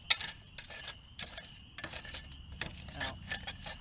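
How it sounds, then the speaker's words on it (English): Garden soil is stirred and sifted with a metal tool, giving irregular scraping clinks and gritty rattles in short bursts, close and fairly quiet. "sifting, stirring the soil. So there we go, stirring the soil"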